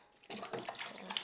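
Water sloshes and splashes close by as underwear is rinsed by hand in a basin, a steady wet churning that starts abruptly and continues with small bursts of splashing.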